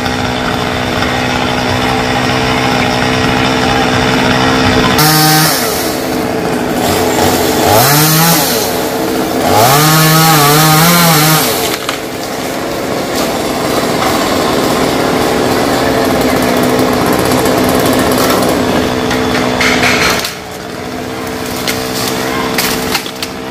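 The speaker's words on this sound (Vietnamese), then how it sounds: "Cường cưa nhánh đó cho nó trống dây điện và sẵn dùng để kích dây ở phía trên luôn" Chainsaw cutting branches of a rain tree, a loud steady engine drone that rises in pitch as it bites into the wood, with revving surges and a drop near the end.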